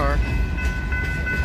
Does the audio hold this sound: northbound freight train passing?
yes